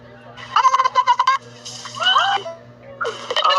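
A human voice imitates a turkey gobble with rapid, warbling, pulsed bursts, three quick calls close to the microphone with a faint steady hum in the background.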